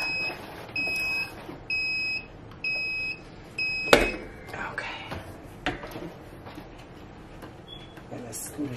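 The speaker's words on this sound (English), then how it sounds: "I set my timer for 30 seconds but I prefer it to go about 40 45" A timer beeps in five evenly spaced bursts during heat pressing of sublimation prints, loud and close, followed by quieter handling noises and soft talk.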